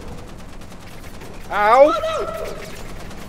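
Rapid gunfire in the horror video game Content Warning, a faint stream of repeated shots running throughout, with a voice crying out in the middle.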